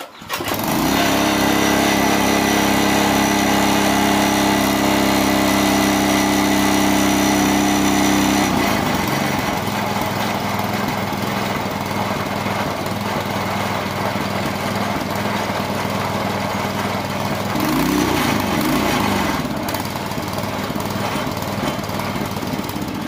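A Branco small engine that had fallen into water starts and runs loud and steady, its throbbing mower-like drone continuing throughout, with the pitch changing briefly partway through.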